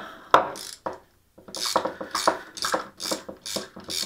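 A puller is wound up by hand to push a piston out of a DRZ motorcycle brake caliper, giving a run of close, dry ratcheting clicks in quick bursts after a couple of sharp knocks.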